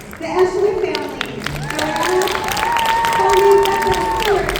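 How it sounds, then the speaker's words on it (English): An audience applauds a family at a school fall showcase, with steady clapping and a crowd murmur that swells slightly, and a voice and faint tones run underneath. "And give the next round of applause for the Ashley family."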